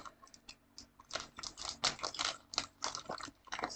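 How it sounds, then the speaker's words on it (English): Plastic computer keyboard shifted and clattered across a desk, a rapid run of close clicks and rattles with several louder knocks as it is pushed aside. "Just get my keyboard out of the way."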